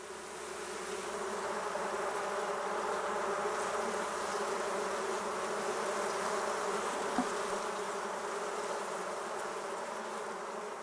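Honey bees buzzing around a hive, a dense continuous drone of many insects at close range, steady and unbroken throughout.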